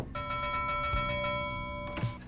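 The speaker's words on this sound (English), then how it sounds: "Gosh, that bell is great." A bell rings in the video game Pyre, struck twice with sustained, tonal ringing partials that linger over a low background.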